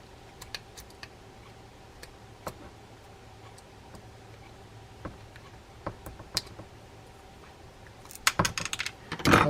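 Small screw being unscrewed on a Tsunami Evict 2000 fishing reel during servicing: faint, scattered ticks and clicks over quiet background, then a denser burst of louder rattling clicks near the end.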